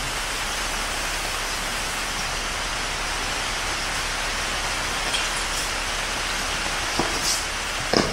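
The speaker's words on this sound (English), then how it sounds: "it's raining pretty good" Steady, dense rain hiss fills the whole stretch, with a few brighter drips and taps standing out near the end.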